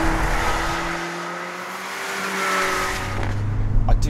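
Mercedes CLA45 AMG four-cylinder engine droning steadily from inside the car while driving, a constant buzzy hum with road and tyre noise, rising slightly near the end.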